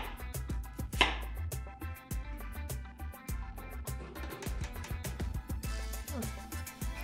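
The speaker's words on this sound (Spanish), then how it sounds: "Para nuestra pomada necesitaremos cebolla blanca. Esta la cortaremos para que sea más fácil licuarla." A knife chops white onion on a board for avocado pomada, a close, rapid run of crisp cuts with one louder knock early on, and no voices.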